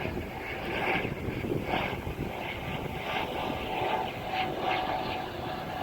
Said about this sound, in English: there's a helicopter going over